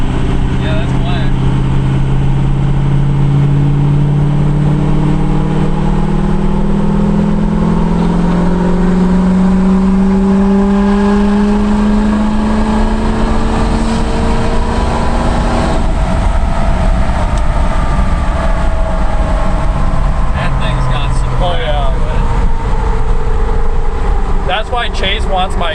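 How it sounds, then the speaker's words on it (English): A Ford 6.0 Powerstroke diesel truck engine runs loud and close, its deep exhaust note rising and falling through revs over about twenty-five seconds, with voices speaking briefly near the end. "Chase wants my exhaust because it's way louder than his."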